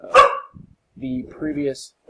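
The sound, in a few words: dogs barking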